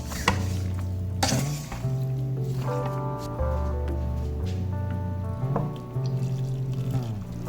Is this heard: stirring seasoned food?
yes